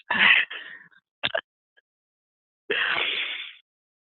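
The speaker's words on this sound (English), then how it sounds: "Let me clear my throat first." Someone clears their throat with several raspy bursts, a short harsh one, a couple of quick clicks, then a longer rough grunt after a pause.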